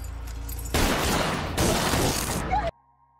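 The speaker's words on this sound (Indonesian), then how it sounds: "Film kembali mundur ketika Bas ditembak mati orang tidak dikenal." Film gunfire as a man is shot dead, heard as a dense, loud burst of rapid shots lasting about two seconds with a brief break, then cutting abruptly to near silence.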